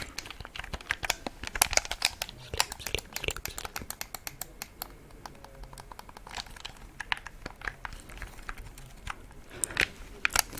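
Rapid plastic clicks from controller buttons, pressed in quick irregular bursts, close up and crisp with no talking.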